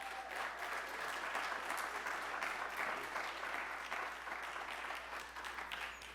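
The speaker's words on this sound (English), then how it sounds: "Clap it up for him." An audience applauds a student speaker at a college event, with dense, sustained clapping filling the room from start to finish at an even level.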